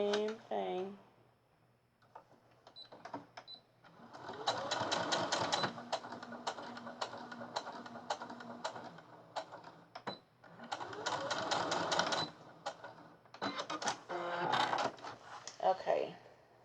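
A sewing machine stitching elastic onto a fabric notebook cover runs in several sustained bursts of rapid, even rattling, stopping and restarting between passes, close and fairly loud, with a person speaking briefly at the start.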